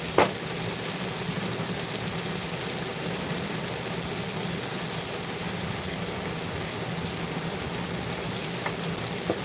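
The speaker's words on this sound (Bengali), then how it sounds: "পেঁয়াজটা যত সময় না মরছে মানে নরম হয়ে আসছে তত সময় কিন্তু পেঁয়াজটাকে নাড়াচাড়া করতে হবে" Onions frying in a pan while being stirred, a steady dense sizzle like rain filling the whole stretch, close and fairly loud, with no talk over it.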